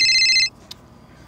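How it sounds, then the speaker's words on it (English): A telephone rings loudly for an incoming call: a single electronic ringtone burst lasting about half a second, then cut off abruptly, followed by a faint click in near silence. "A phone call."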